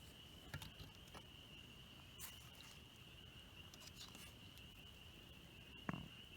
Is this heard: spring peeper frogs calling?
yes